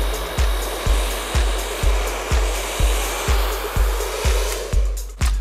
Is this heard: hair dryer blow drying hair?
yes